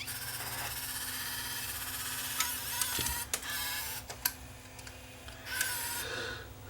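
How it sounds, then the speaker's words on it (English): A 30-year-old Sony CCD-TR7 camcorder loads a cassette: a faint, close mechanical whirr from the drum motor and tape mechanism, with scattered small clicks and ticks toward the end. "Let's just try loading a tape. Okay, drum motor rotated a bit there."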